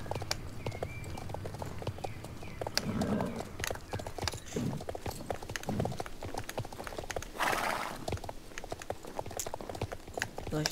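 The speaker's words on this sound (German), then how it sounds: "Reiten, nicht stehen bleiben, reiten." Steady clip-clop of horse hooves while riding in Star Stable Online, a continuous rhythmic trot throughout, with faint breathy snorts and no talking.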